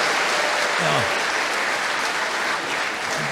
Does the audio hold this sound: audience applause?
yes